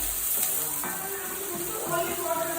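Chopped onions and cumin frying in a pan, with a steady low sizzle and hiss running throughout and faint clinks of stirring over it.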